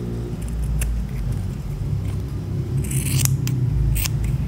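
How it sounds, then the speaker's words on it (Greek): Scissors cutting fabric while sewing a blouse, several sharp snips and crisp blade closures over a low steady hum, close and fairly loud, no talk. "Κάντε το με ένα καλύτερο ψαλίδι"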